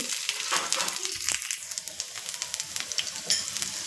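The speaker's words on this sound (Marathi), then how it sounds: "कुडून टाकलेल्या लसूण तर मस्त परतून घ्यायचं" Hot oil sizzles and spits steadily as garlic fries, with scattered sharp pops and a faint scrape of stirring, close by.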